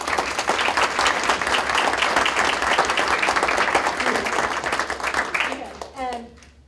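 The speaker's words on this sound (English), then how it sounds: "they really deserve a round of applause" Audience applause at a school board meeting recognizing a student delegation, a loud, dense run of clapping that tapers off near the end as a voice comes in.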